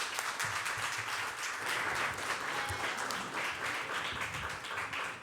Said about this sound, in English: give all of these duly elected officials and elected officials a round of applause